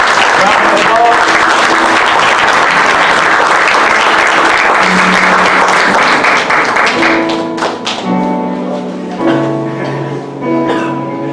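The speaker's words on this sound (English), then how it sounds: "Round of applause." Congregation applauding during a Sunday church service: loud, dense clapping fills the first several seconds, then thins as sustained organ or keyboard chords and voices rise through the remainder.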